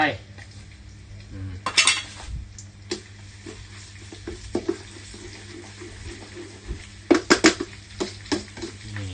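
An electric frying pan clanks and scrapes in a few sharp bursts against a quiet background, with faint kitchen sounds between the knocks.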